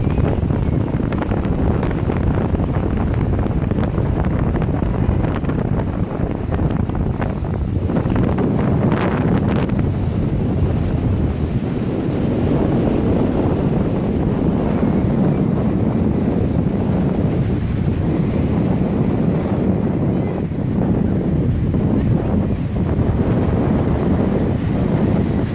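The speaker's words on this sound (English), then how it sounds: "It is windy, it is cold, and it is wavy." Strong wind buffets the microphone on a Lake Huron shore at Grand Bend, roaring constantly over the wash of breaking waves, loud and unbroken with no speech.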